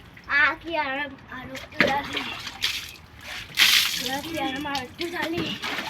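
A child bathes, with water splashing and sloshing close by in a few sharp bursts between the lively voices of a child and an adult talking.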